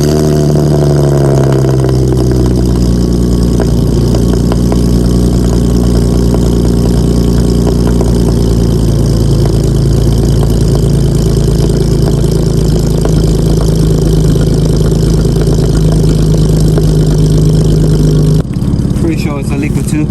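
A Mercedes C300 fitted with an Fi exhaust cold-starts and settles into a steady, loud idle with a deep, droning exhaust note that holds for about sixteen seconds before cutting out abruptly.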